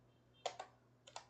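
Keys on a computer keyboard are tapped to enter a password: a few quiet, close clicks in two brief clusters with a pause between them, over a faint room hum.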